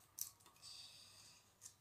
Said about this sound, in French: déjà c'est compliqué pour que le papier daigne se couper